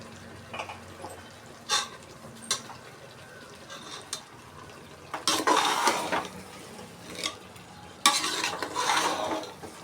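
Chicken biryani masala sizzles and fries in a pan while a spoon stirs and scrapes it in repeated bursts, with louder stretches of frying near the end.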